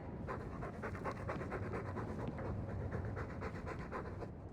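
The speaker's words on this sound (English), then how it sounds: "All that noisy dog breath, day in, day out." Heavy, rapid dog panting from the video game Dragon Age 2, a steady close rhythm of breathy huffs running throughout with no speech.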